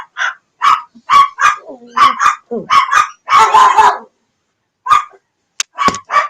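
A dog barks in a close, loud, rapid string of sharp barks and yips, broken by a few short pauses and a brief lull before more barking.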